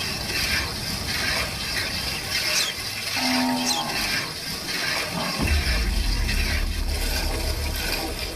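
A buffalo gives a single short, low moo partway through, set against steady background noise and some mechanical clatter.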